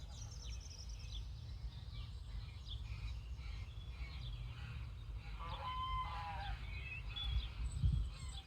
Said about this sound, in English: Geese are really angry at the moment.